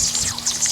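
Water sprays onto the crud-caked bowl of a vintage Weber kettle grill, making a brief, steady, close splashing hiss with no voices.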